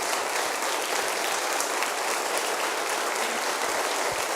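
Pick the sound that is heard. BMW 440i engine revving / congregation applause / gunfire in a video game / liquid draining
congregation applause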